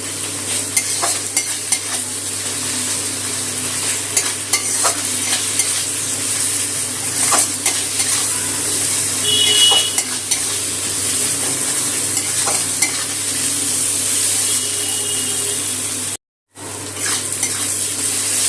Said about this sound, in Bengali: এখন ওই বাটা মশলাটার সাথে গুঁড়ো মশলাগুলো কষিয়ে নেব।